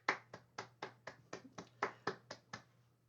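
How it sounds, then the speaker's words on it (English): A single pair of hands claps about a dozen times at a steady, moderately quick pace. The claps are sharp and fairly close but quiet, with a low hum underneath. "There's never any applause on these things except one pair of hands clapping"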